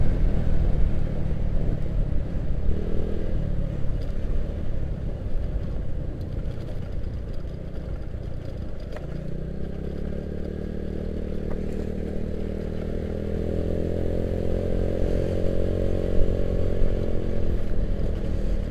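A motorcycle is ridden at night along a road past a cemetery on the way home from work. Its engine gives a steady, close rumble with wind and road noise, and the pitch rises toward the end as it accelerates.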